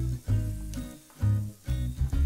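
Meat sizzles loudly on a very hot braai grill in repeated bursts as pieces go down one after another, each burst of crackling hiss swelling and fading, close and alone.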